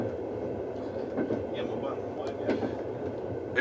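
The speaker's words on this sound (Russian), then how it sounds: "Наш поезд движется по направлению к горному перевалу." A passenger train rolls along the western Baikal-Amur Mainline toward a mountain pass on a frosty minus-forty morning, heard from inside the carriage as a steady rumbling drone with faint clicks, and a voice murmuring beneath it.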